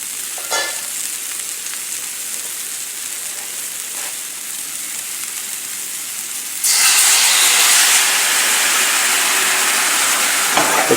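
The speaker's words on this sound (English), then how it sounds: "Going to deglaze this first." A pan of sea scallops sizzles softly, then bursts into a louder, hissing steam sizzle as brandy and white wine are poured in to deglaze, with faint utensil scrapes.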